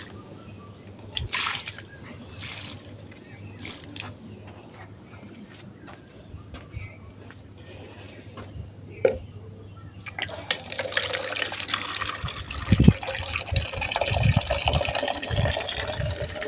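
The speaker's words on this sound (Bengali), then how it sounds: "তো প্রথমে কাঁচামরিচ গাছের মধ্যে পানি দিচ্ছি।" Water poured onto green chili plants in a rooftop garden, scattered drips and splashes at first, then a steady gushing stream of water hitting soil and leaves toward the end, close by.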